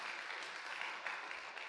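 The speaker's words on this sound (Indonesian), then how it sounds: "tepuk tangan untuk Anda semua Bapak Ibu." Audience applause at an Indonesian talk, a short burst of dense, soft clapping from a seated crowd, fairly distant and steady throughout.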